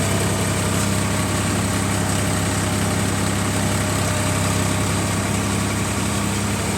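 An Indo Farm 3048 DI tractor engine runs steadily at idle, a constant low rumble with a mechanical hum throughout, close by and unbroken.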